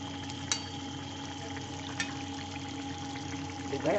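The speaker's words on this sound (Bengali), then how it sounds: "একটু গরম জল দিয়ে দেবো" Hot water poured into mutton frying in a pan, a soft steady pouring and sizzle close by, ending with a brief louder splash.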